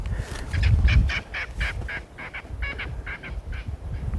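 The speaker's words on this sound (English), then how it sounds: "There's a bird that got a fright." A startled bird at a private nature reserve near Riversdale calls in a run of honking, goose-like cries, about a dozen fairly loud repeated notes over steady outdoor background noise.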